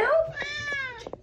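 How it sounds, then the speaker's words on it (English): A cat lets out a single drawn-out meow, nearby and fairly soft, with faint movement sounds around it. "My cat. Meow, meow."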